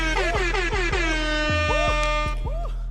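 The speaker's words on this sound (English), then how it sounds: "Let's do an air horn on that." A loud, blaring air horn blasts repeatedly in a fast rhythmic pattern, its pitch swooping and wobbling, filling the whole clip with no pauses.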